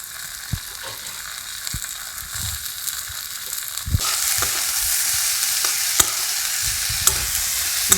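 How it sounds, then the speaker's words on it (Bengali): Ginger-garlic-green-chili paste and finely chopped capsicum fry in a pan over a gas flame turned low, a steady close sizzle with occasional stirring clacks, the hiss growing louder and brighter partway through. "গ্যাসের আঁচ কমিয়ে আমি এক মিনিট মতো এটা ভেজে নেব"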